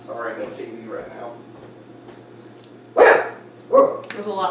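A house dog lets out two loud barks close by, with a man's speech heard before and between them.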